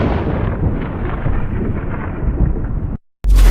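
Thunder during a storm rumbles loudly and continuously for about three seconds, a deep rolling roar cut off abruptly, then another harsh burst begins.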